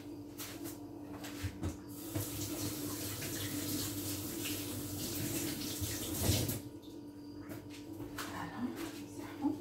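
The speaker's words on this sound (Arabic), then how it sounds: "نغسل يديا." Tap water runs steadily into a kitchen sink while hands are washed during donut preparation, a continuous splashing flow with a brief louder surge near the end.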